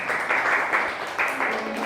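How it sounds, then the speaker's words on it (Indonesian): Classroom applause for a student group, a dense burst of many hands clapping at once, loud and close, swelling in a few uneven surges over under two seconds. "Kita beri aplaus kelompok 1."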